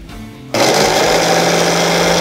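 An electric blender jar of olive oil and garlic for vegan pesto switches on abruptly after a moment of quiet, giving a loud, steady, high-pitched motor whine that cuts off sharply about two seconds later.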